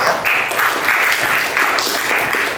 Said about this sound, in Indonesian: tepuk tangan untuk jawabannya Amel